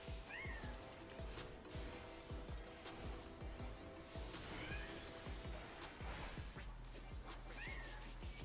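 Cat meowing from Final Fantasy XIV raid gameplay: several faint, short meows recur at intervals amid busy combat sounds and thuds, quiet overall and set back in the mix.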